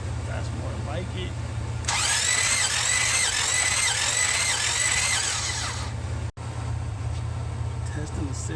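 A 1966 Buick Riviera GS engine that cranks but won't start, turned over during a compression test: a steady, rhythmic starter-cranking whir runs for about four seconds and then stops, over a constant low background hum.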